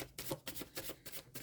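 Tarot cards being handled and shuffled for a Leo reading, with repeated soft riffling and flicking bursts coming close and steady.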